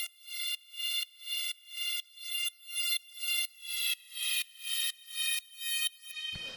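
FM synth drone built in Ableton Operator, sounding as a bright, harmonically rich tone chopped into steady rhythmic pulses about twice per second, pumping evenly for several seconds before cutting off.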